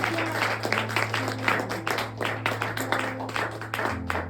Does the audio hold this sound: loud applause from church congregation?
yes